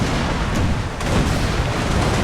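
Ship cannon fire in the naval video game NTW 3, a continuous rumbling barrage of booming shots blending into a dense, loud roar with a few sharper cracks.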